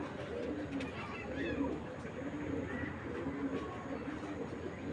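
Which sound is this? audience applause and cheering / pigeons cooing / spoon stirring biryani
pigeons cooing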